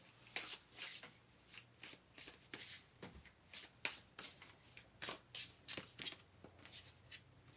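Tarot deck being shuffled by hand for a pick-a-card reading, a steady run of crisp riffling bursts repeating about every half second, close and fairly quiet with no talking.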